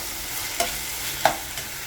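Brinjal pieces fry in oil in a pan for a brinjal, broad bean and potato curry, giving a continuous close sizzle. Two brief knocks or stirs stand out above the hiss, and no voice is heard.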